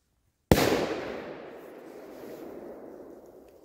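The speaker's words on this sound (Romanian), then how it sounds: "Șuierat, bubuitură, tot. Explosive show." A single Scream 5S firecracker goes off with one sharp, loud close bang, then a long rumbling echo fades out over a few seconds.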